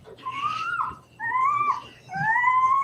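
A dog in labour whimpers in three long, drawn-out whining cries separated by short pauses, close and fairly loud, with no talking.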